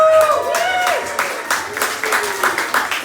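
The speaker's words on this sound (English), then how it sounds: "give a round of applause to Brendan Clark" An audience applauds Brendan Clark at a talk, moderately loud clapping with rhythmic bursts, overlapped by a speaking voice with pitched tones early on.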